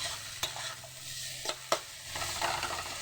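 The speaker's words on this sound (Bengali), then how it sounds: "এবার ওগুলোকে ভালোভাবে ভেজে নেব।" Onion, tomato, garlic and shredded cabbage fry for chowmein over a raised flame, a close, steady sizzle broken by a few sharp spatula scrapes and knocks against the pan, with no one talking.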